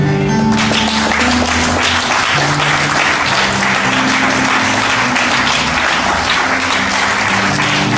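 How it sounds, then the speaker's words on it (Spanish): Steady, loud applause from a church congregation fills the whole stretch without a break. "Y todos damos un aplauso a Él."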